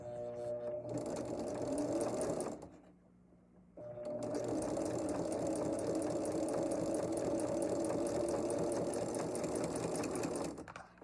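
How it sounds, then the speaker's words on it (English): A sewing machine stitches fabric along a marked line on a flower for a table runner, running steadily and loud and close, pausing briefly before resuming its continuous rapid whir. "And I'm going to sew right on that line."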